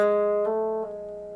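A guitar hammer-on with the third finger from a riff, with one sustained ringing note and two soft, quick changes of pitch, close and alone.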